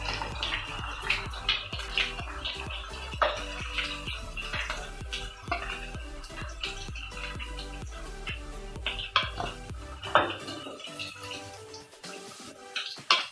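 Deep-fried chilli chicken pieces are lifted one by one from the pan onto a plate, with repeated close metallic clinks and scrapes of utensils against the pan and plate over faint background hiss.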